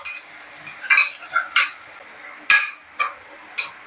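Chopped onion frying in a pan for a chicken dish, with a steady low sizzle under sharp clinks and scrapes of a spoon stirring against the metal, about seven distinct knocks spread across the stretch.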